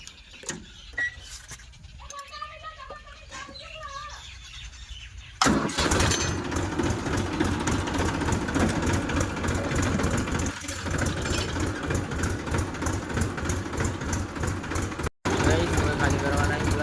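A tractor engine cranks and catches at a village farmyard, then settles into a loud, steady diesel idle with a rapid chugging pulse, after a short stretch of quiet talk and background bleating.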